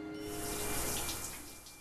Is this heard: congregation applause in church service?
no